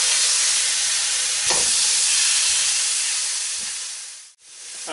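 Juicy steak frying in a hot pan just after being flipped, giving a steady, loud, close hiss of sizzling fat and steam that runs without a break, with a brief dip near the end.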